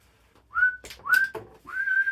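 Three short referee whistle blasts at a football match in quick succession, each rising sharply in pitch, with a moment of quiet between them.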